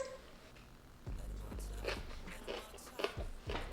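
Crisp bites and crunching chews into homemade crunchy summer rolls dipped in sauce, several close, sharp crunches in a loose rhythm after a quieter start.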